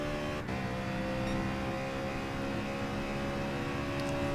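GT Sport racing car engines, including a Lamborghini, hum and whine steadily at moderate level in a close battle, with a brief bump near the start and a faint higher whine toward the end.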